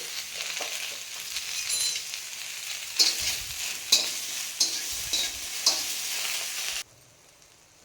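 Sliced bitter gourd sizzles as it fries in a pan, a steady hiss broken by several sharp scraping stirs of a spatula, close and clear, before the sizzle suddenly drops away near the end.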